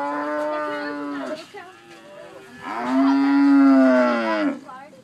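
Cattle on a farm low loudly and close, two long, drawn-out moos, the second deeper and more sustained, with no talk over them.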